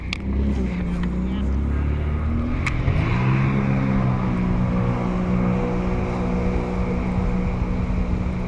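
A jet ski buzzes past a fishing boat on Douglas Lake, its engine droning loudly and shifting pitch as it passes close by, with the boat's own motor noise and wind underneath.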